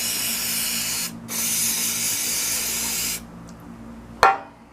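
CRC electronics cleaner sprayed from an aerosol can into the throttle body of a 2001 Ford Explorer, heard as two steady loud hissing bursts with a short break between them, then a sharp knock.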